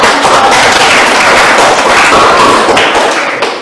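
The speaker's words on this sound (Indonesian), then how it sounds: "Mari kita tepuk tangan." Loud, close applause fills a classroom after a group presentation, dense overlapping claps sustained for a few seconds before tapering off.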